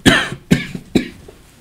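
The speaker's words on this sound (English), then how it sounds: "Can be a loud coughing. Something like this." Three loud, deliberate coughs burst out in an even rhythm about half a second apart, close to the listener, each sharp and brief with quiet between.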